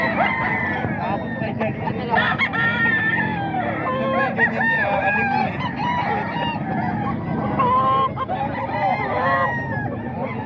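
Gamecock roosters for sale crow and cluck repeatedly at close range in a busy, noisy setting, with people talking over them throughout.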